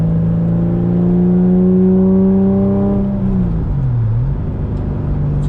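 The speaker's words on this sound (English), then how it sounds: "Just the average sound of the exhaust inside the cockpit." Porsche 996 fitted with a race exhaust, heard from inside the cockpit while cruising around town: a loud, steady droning exhaust note that holds, then drops lower as the engine eases off, with no talk.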